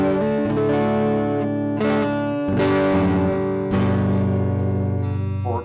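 Electric guitar played through a Harley Benton American Sound overdrive pedal with the drive backed off and the level raised, giving sustained, mildly distorted chords that ring loud and close with no talking.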